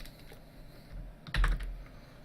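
A few quick keystrokes on a computer keyboard during Minecraft 1.8 mod coding, light close taps with a louder cluster of clicks partway through against a quiet room.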